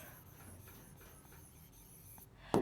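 A pen scratches and rubs across paper as an English answer is written by hand, faint, close and continuous, ending in a sudden sharp knock.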